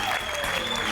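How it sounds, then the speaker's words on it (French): Studio audience on a French TV game show applauding steadily, a dense, loud wash of clapping that fills the short moment without a break. "on applaudit très très fort Delphine"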